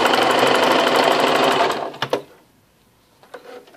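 A sewing machine stitches a seam in a steady, rapid run for almost two seconds, then stops; a few brief clicks and handling noises follow in near silence.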